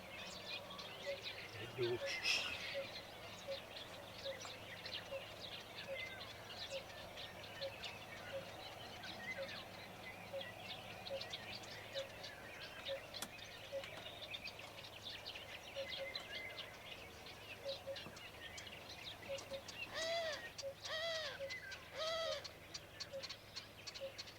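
A masked shrike sings continuously with thin, repeated phrases amid a busy outdoor chorus of other birds and soft cooing, steady throughout.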